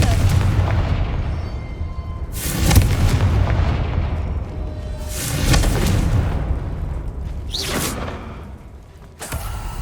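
Repeated spell blasts from Confringo and Bombarda in the Hogwarts Legacy video game, several loud booming bursts over a dense low rumble of combat effects, with a sharp final hit near the end.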